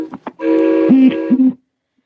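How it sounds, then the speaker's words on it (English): A boat's whistle sounds on the Mississippi River, a single steady tonal blast of about one second with a rich harmonic tone, preceded by a couple of short knocks. "I keep hearing the whistle of the boat way out in the Mississippi."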